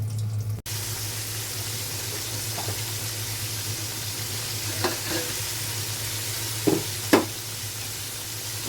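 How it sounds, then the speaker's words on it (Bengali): Coated pieces fry in a pan with a steady, close hissing sizzle throughout, broken by a few faint clicks and knocks near the end. "এভাবে করে সবগুলো হচ্ছে মাখিয়ে নিয়ে ভেজে নেবে"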